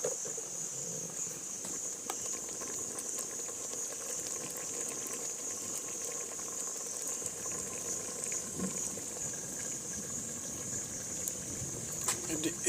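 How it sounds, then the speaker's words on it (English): Bean curry with carrots simmering in a pot over a wood fire outdoors, a soft continuous bubbling with faint crackles and insect chirps in the background, someone talking over it. "because now it's beginning to boil"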